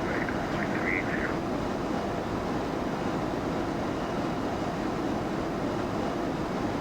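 Steady broadband roar of an airliner departing in a flight simulator, with an icy Toronto departure setting; continuous engine and runway rumble holds level throughout, with a faint radio voice near the start.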